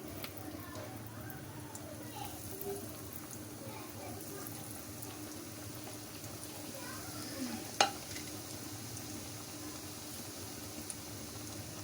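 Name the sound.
chicken samosa patty filling frying in hot oil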